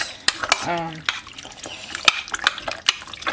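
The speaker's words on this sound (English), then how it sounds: "I'm gonna mix this around a little bit." Ingredients are stirred in a pot on a homestead kitchen stove, with sharp spoon clinks and knocks against the pot at irregular intervals over a quiet background, close and moderately loud.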